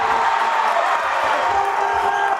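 A basketball crowd at a boys' varsity high school playoff game cheers after a made shot, with steady, loud roaring and whooping from the stands that fills the gym.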